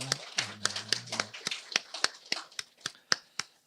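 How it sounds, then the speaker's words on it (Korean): Applause for God during a Korean Sunday church worship service: a dozen or so sharp, separate claps in an uneven rhythm, fairly close and crisp, with a brief low tone under the first second. "하나님께 영광의 박수 드리겠습니다"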